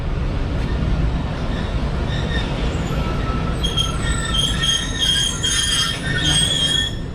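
The Khyber Mail passenger train slows near a village station in Pakistan, its wheels squealing in shrill, overlapping tones over a constant rumble of rolling carriages.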